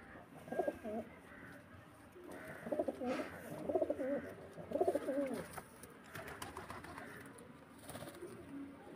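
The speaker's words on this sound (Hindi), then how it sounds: "ये दो रंगा कबूतर है" A black two-toned pigeon coos close by in a series of low, rolling phrases that repeat every second or so, faint against a quiet background hiss.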